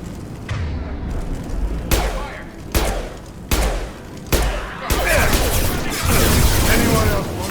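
Loud gunfire from Blue Suns mercenaries and Vorcha in the video game Mass Effect, with sharp, spaced blasts roughly every second that build into denser shooting toward the end, under a voice speaking.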